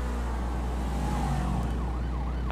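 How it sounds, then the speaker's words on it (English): In Grand Theft Auto V, a police car siren begins a faint wailing rise over a low, constant engine drone, sitting back in the mix rather than up close. "How do I turn on my siren?"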